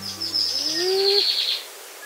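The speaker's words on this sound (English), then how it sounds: "Kereru, green blue pigeons native to New Zealand, like to sun themselves after a good meal." A kererū, the New Zealand green-blue pigeon, gives a single soft rising call with a brief whistled sweep, heard clearly alone for about a second.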